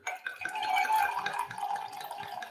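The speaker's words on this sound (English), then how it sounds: "There was a carbonation sound" Carbonated liquid fizzing steadily with dense crackling and popping bubbles, close and moderately loud, continuing without pause and with no talk.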